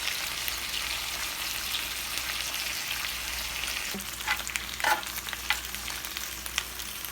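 Korean beef kalbi cooking in a pan over medium heat gives a steady, even sizzle throughout, with a few soft clicks and light scrapes in the latter half and no one speaking.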